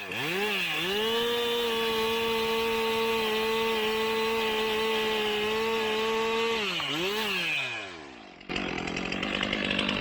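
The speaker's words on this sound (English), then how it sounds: "Just take the tip of the bar and cut the hinge and see how it's peeling out there?" Chainsaw bar tip cutting through the hinge wood of a felled tree, engine revving up then holding a loud, steady whine, dropping back before cutting off near the end, followed by rustling.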